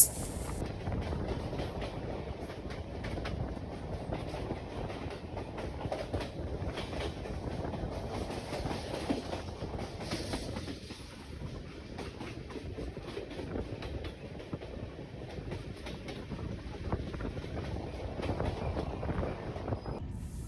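Amrit Bharat Express running from Malda toward Bangalore, a continuous loud rumble of wheels on rails with rhythmic clatter, heard from inside the moving train for the full stretch.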